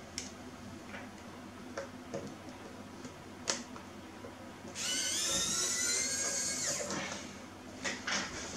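A screwdriver with a hexagon bit removes screws during a teardown of an Azio Retro Classic keyboard. Sharp ticks and clicks come first, then a two-second high, whirring spin of the driver, followed by more small clicks at close range.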